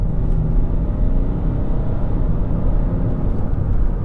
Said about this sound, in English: You only need to place your right foot in the general direction of the accelerator, and you're off.